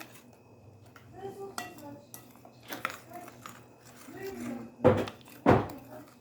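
A spoon clinks and scrapes intermittently against a bowl while stirring a yogurt sauce with white sesame seeds, with a few sharper knocks near the end, all under a person talking.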